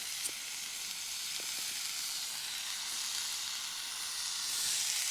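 A pound of hamburger browns in a pan, giving a steady bright sizzle with soft crackles and occasional faint scraping, fairly quiet and continuous with no talk.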